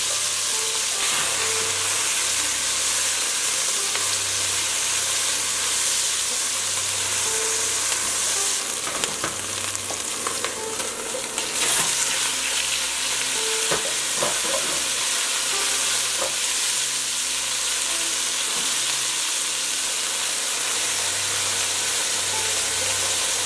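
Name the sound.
beef frying and being stirred in Dutch oven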